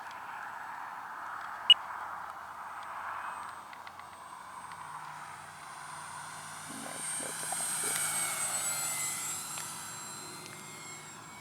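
FlightlineRC FW-190 V2 radio-controlled model warplane flying overhead, a faint steady electric motor whine that swells and fades as it passes at a distance, with outdoor background noise.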